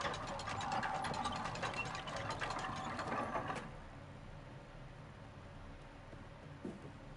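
Ratchet mechanism being cranked in the horror game REANIMAL, a dense run of metallic clicks and grinding pawl clatter for about three and a half seconds, then stopping into a quiet hum with one faint knock near the end.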